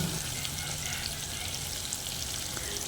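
Chicken masala with freshly added chopped tomatoes sizzling in a pan, a steady, even hiss close by at moderate volume with no talk.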